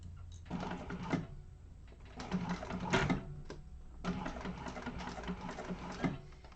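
A sewing machine stitches binding onto vinyl for a bound bowler bag, running in steady mechanical bursts with short pauses, moderately close and fairly quiet, with no voices.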